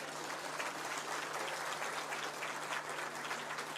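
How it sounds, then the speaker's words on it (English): Sustained audience applause at the Africa Climate Summit in Nairobi, Kenya, acknowledging development partners; a thick, continuous wash of clapping in a large hall, with a faint steady hum underneath. "I promise you they deserve a better round of applause."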